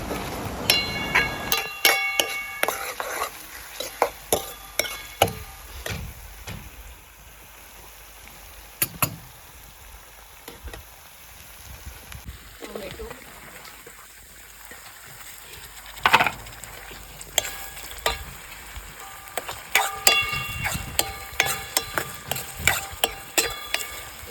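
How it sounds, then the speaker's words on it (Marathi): Curry leaves and onion dropped into hot oil on a wood-fired clay stove, crackling and spitting in sharp irregular pops and bursts over a low hiss, clustered at the start and end, fairly close. "तेलामध्ये कढीपत्ता आणि कांदा टाकून छान असं परतून घ्यायचं"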